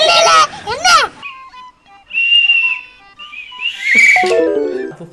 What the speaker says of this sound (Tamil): நாய் கத்துது விசில் சவுண்ட்.